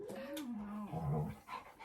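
A dog whimpers and whines softly at close range, its thin wavering cries rising and falling over low household background noise.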